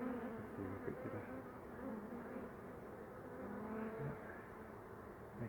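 A swarm of honey bees hums steadily during a beehive relocation at a house, a faint, even buzz close by with a low rumble beneath it.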